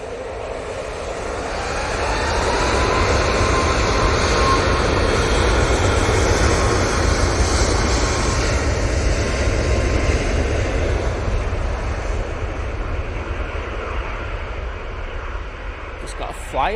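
An airliner on a Boa Vista flight rolls down the runway for takeoff at Manchester Airport, a loud, sustained broadband engine roar that builds over the first seconds and holds steady throughout.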